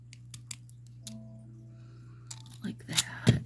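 A few crisp scissor snips trimming a nail polish strip, close and sharp, the loudest near the end, with quiet talking and a low steady hum underneath.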